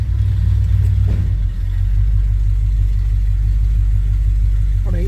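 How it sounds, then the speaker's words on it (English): Old pickup truck engine idling and running as the truck eases out: a steady, close, low rumble throughout, with faint bumps and shifts in the sound and no clear talk. "I'm going to ease it out of here"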